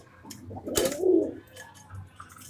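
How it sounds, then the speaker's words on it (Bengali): Newly acquired pet pigeons give a couple of soft, throaty coos up close, with low rustling in between. "এটা হলো আমাদের নতুন কবুতর"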